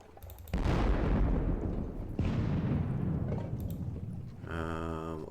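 Artillery guns firing in the Napoleonic Battles war game, two loud booming discharges with long rumbling decays, one after the other, followed by a brief tonal game sound at the end.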